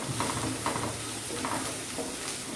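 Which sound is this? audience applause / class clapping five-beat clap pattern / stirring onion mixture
stirring onion mixture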